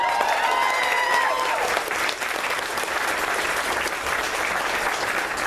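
An audience at a Collin County Democrats gathering applauds with a dense, steady wash of clapping that holds through the whole stretch, while a voice speaks briefly near the start.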